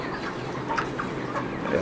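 Broiler chickens in a fan-cooled poultry shed during hot weather cluck steadily in a low, continuous flock murmur, with a few brief louder calls rising above the hum.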